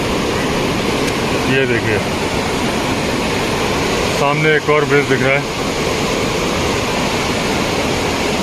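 Steady broadband rush of a river flowing beneath a bridge at Turtuk in Ladakh, loud and continuous throughout, with someone speaking over it in two short bursts.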